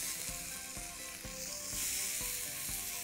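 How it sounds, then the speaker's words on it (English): Boneless New Zealand lamb leg steaks, oiled, salted and peppered, sizzle steadily in a hot pan, giving a loud, close, continuous frying hiss with faint regular ticks underneath and no talking. "So now it's time to cook the lamb, and I've got these boneless New Zealand lamb leg steaks."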